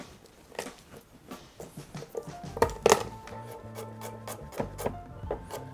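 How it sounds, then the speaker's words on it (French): Fresh ginger being chopped with a knife on a wooden board while cooking rougail boudin, a series of quiet, irregular knocks and taps, close and fairly faint, with a few sharper hits in between. "On coupe le gingembre"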